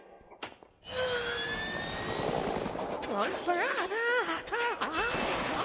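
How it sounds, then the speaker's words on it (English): Peter Griffin's Peter copter from Family Guy, a cartoon helicopter whirring loudly and continuously, with voices shouting over it and warbling tones sweeping through the latter half. "Quick, to the Peter copter"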